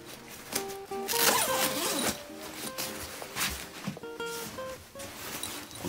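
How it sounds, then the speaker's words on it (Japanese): A center zipper on a dark-colored winter sleeping bag being pulled open and shut: a drawn-out rasping zip up close, with faint rustling of fabric and a soft background hum, no talking. "チャックの開閉がしやすいというか横のタイプだとちょっとやりづらいんでこれ真ん中についてるんでやりやすいです"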